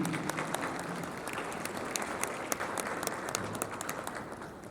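An audience at a conference panel session in Marrakech applauding, dense sustained clapping from a large crowd filling the room at an even level.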